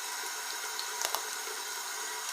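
Water streams steadily into a bowl of homemade slime, a continuous even hiss with a couple of small splashy accents near the middle and no voices.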